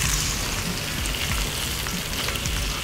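Onion frying in a hot pan, a steady close sizzle and crackle with no voices.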